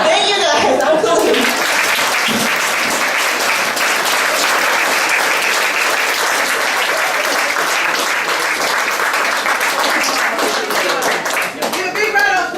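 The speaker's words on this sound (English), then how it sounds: "Give a big round of applause." Loud, sustained applause from a comedy club crowd at the Broadway Comedy Club, many hands clapping steadily for the whole stretch, with a voice over it at the start.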